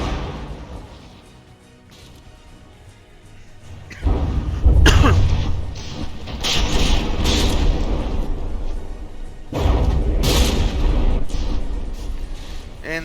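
Naval guns on battleships in From the Depths fire in heavy booming bursts with rumbling impacts, a loud barrage swelling around four seconds and again near ten, layered over continuous low battle rumble.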